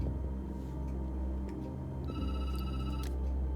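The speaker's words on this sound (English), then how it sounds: "The phone rings." A telephone rings in a detective video game, a steady electronic bell-like trill sounding clearly and alone over a low ambient hum, with no talking.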